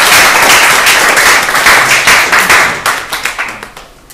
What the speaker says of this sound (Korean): 그럼 박수를 한번.